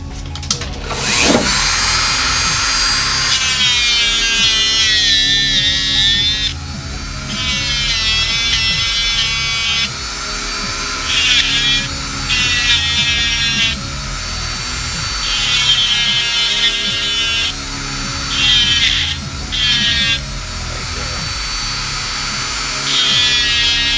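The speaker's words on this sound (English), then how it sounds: "the rotary sander. We're just going to reshape now." An electric rotary sander whines steadily as it reshapes and rounds the edges of parts for a double-shielded PWM control cable for CNC systems, a loud close buzzing that rises and dips in pitch as it presses against the work, with no talking.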